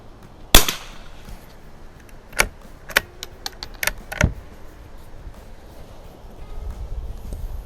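An old Winchester 52 .22 target rifle, pre-A model with open sights, shooting: a sharp crack near the start, then several lighter metallic clicks and clacks of the action being worked, with faint background noise.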